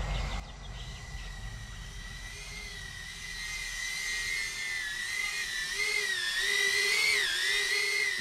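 A small HGLRC Talon drone carrying a 4K camera hovers and flies nearby with a high, whining propeller tone. The pitch rises and wavers as it manoeuvres, and the sound grows slightly louder toward the end. No one speaks.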